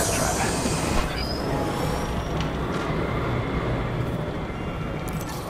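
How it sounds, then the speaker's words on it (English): A train in the video game Apex Legends rumbles steadily past, with broadband rolling noise and faint high wheel squeals, continuous and fairly loud throughout. "Here's the train."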